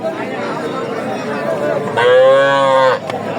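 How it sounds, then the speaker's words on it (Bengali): A Sahiwal bull calf at a busy village cattle market gives one loud, drawn-out moo, close by, over a background of crowd chatter and voices. "ষাঁড়"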